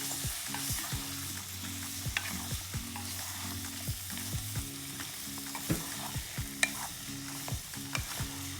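Pumpkin soup ingredients being stirred with butter in a pan: a soft, continuous sizzle broken by regular scraping strokes of a spoon, close and fairly quiet, with no talking.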